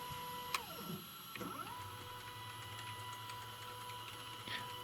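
An MPCNC CNC machine on a large board jogged with a pendant, stepper motors whining with steady tones that sweep up and down as it moves, quiet and continuous.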